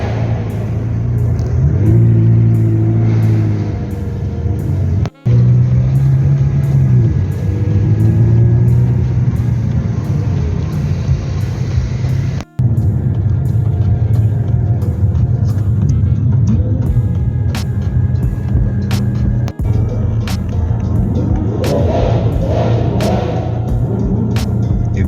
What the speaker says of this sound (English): That is literally the Aventador going all out.